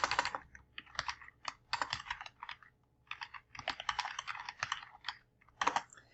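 Keys clatter on a computer keyboard while an article is typed, in quick irregular bursts of clicks with short pauses between runs, close and fairly quiet with no voice.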